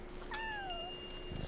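A single cat meow in the video game Yonder, rising then falling, clear over a steady electronic hum and soft background music.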